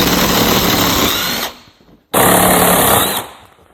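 Power tool spinning out the footrest bolts on a TRV, two loud sustained bursts of whirring separated by a short pause, close and with no talk.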